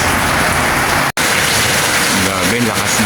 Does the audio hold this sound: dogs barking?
no